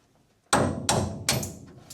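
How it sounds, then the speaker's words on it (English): Three sharp metallic hammer blows, evenly spaced and close, strike a roll pin on the steering box of a 1986 Dodge D150, each ringing briefly before the next. "So the first thing I got to do is get the roll pin out on the steering box side."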